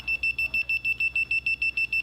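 The limit switch on an Estate Swing ES 1000 driveway gate opener gives a rapid, steady run of high electronic beeps, about five per second, close and clear with no talking.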